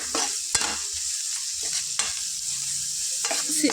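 Egg curry masala with tamarind sizzles in a pan while a spoon stirs it, scraping sharply several times over a steady frying hiss, up close.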